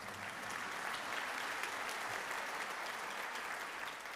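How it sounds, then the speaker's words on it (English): An audience applauds during a State of the City address, steady dense clapping from a large crowd at a moderate distance, holding evenly for several seconds without talk. "that's a round of applause"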